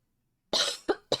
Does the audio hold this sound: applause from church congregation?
no